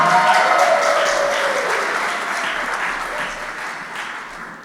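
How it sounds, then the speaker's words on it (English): Wedding guests applaud steadily, a dense crowd clapping that stays loud throughout and fades slightly toward the end, with no voices standing out. "a round of applause for the parents of the bride, Steve and Ellen Blum"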